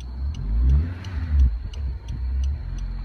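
Car engine of a Mugen RZ restarting after idle stop and then revved in neutral, rising and falling in loud, close surges over a steady low rumble with faint periodic ticking.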